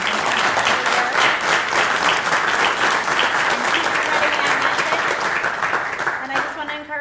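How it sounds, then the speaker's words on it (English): An audience at a family recovery meeting gives a round of applause: dense, steady clapping from many hands that fills the room, then thins toward the end. "So we just want to give you another round of applause."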